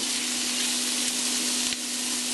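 Pork intestine sautéing with ginger makes a loud, dense, continuous sizzle with a steady hiss, close up and with no talk.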